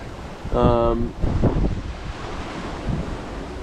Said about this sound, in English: The wind isn't what's worse, is the waves are getting kind of big.